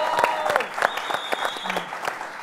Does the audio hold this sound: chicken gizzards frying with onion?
no